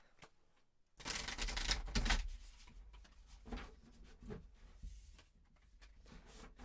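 Cards being shuffled in quick riffling bursts, loud at first and then lighter, with scattered soft taps, no talking.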